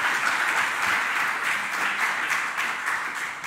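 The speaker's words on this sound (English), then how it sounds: "I need a big applause for Jonathan from you." An audience at a ReMeP 2019 fireside chat gives Jonathan a steady round of applause, a dense wash of clapping that holds evenly throughout at moderate volume.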